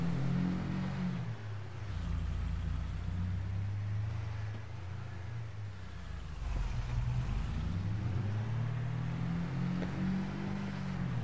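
A vehicle engine in Farming Simulator 22 runs steadily with a low droning hum and throaty rumble that rises and falls as it drives, close and continuous throughout.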